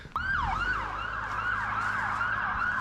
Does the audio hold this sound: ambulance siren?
yes